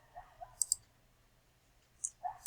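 Quiet mouse clicks on a computer running Visual Studio 2022, a quick double click followed after a pause by another pair of soft, close clicks, alone without talk.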